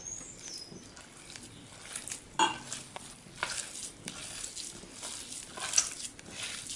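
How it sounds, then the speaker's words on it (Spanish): Oil or margarine being stirred into a cassava and cumin mixture for Paraguayan pajagua mascada, heard as soft, steady scraping and patter with a few sharper clicks and no talk. "Agregamos las 2 cucharadas de aceite o 2 cucharadas de margarina. Y esto empezamos a mezclar."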